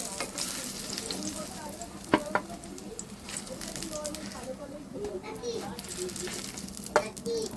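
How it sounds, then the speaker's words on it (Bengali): Young eggplant slices frying in oil on a stove, a faint steady sizzle with occasional sharp clinks of a utensil and distant children's voices in the background. "বেগুন ভাজা হয়ে গেছে।"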